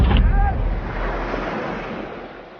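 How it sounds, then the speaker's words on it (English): Sea surf on the Somaliland coast, a steady broad wash of breaking waves with wind rumble on the microphone, loud at first then easing slightly, no voices. "the sea."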